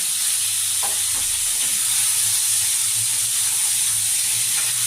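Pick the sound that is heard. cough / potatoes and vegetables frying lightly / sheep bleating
potatoes and vegetables frying lightly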